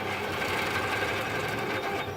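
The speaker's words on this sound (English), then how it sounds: "All you do is hear a rattle." A fast 3D printer rattles through rapid accelerating moves, a dense continuous mechanical chatter with quick buzzing pulses, steady and close throughout.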